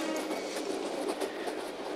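A train runs along rails in a film scene, a steady loud rumble with a rapid rattling clatter of wheels and carriages, continuous and close with no talking.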